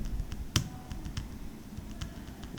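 Typing on a computer keyboard during Excel work, soft scattered key clicks with one sharper tap, close and quiet, with no voices.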